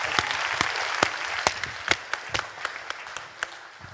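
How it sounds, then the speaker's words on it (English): Audience applause at a recovery conference session, steady clapping from a modest crowd filling the room, fairly close and without any talk over it. "So can I have a warm round of applause"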